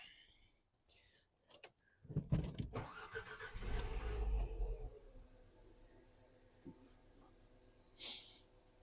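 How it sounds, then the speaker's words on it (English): A Nissan Qashqai's engine cranks and catches after a few clicks and rustles, surges briefly, then settles into a quieter steady idle, with a short sharp noise near the end. "Now we're going to start the car up and leave it running."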